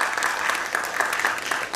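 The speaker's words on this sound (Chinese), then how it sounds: "我们一起用最热烈的掌声来欢迎我们的台兆梅小梅姐。" Audience applause at an indoor cancer-support event in Kaohsiung welcomes a speaker to the stage, steady dense clapping from a crowd heard close and continuous for the whole stretch.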